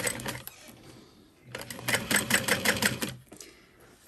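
A sewing machine bastes the seam of a backpack in short rapid bursts, its needle chattering in quick runs separated by pauses, close and fairly quiet.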